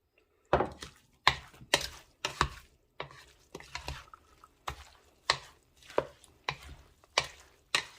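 Fresh pico de gallo salsa being mixed in a bowl, a spoon knocking and squelching through chopped ingredients in about a dozen distinct strokes, close and clear with short pauses between them.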